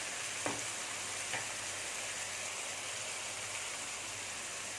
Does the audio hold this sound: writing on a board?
no